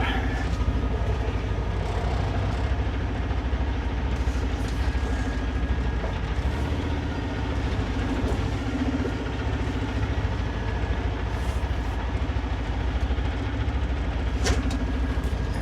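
A Super B truck with two trailers idles and creeps while backing and pulling forward, a steady low diesel rumble holding throughout, with a few faint clanks and hisses near the end.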